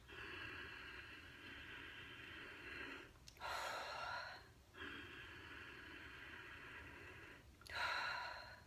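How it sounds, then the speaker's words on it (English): Pranayama breathing draws air through the back of the throat in long, hissing inhalations and exhalations, close and clear, with breaths alternating in a slow, steady cycle. "I'm basically pulling in air from to the back of my throat."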